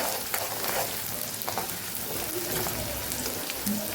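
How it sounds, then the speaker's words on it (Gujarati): Green chillies sautéing in a hot pan for spicy poha and potatoes, a steady soft sizzle and hiss running throughout with faint scraping now and then. "હવે આપણે લીલા મરચાં ઉમેરી દઈશું એ પણ સરસ આપણે સાતડી લેવાના છે"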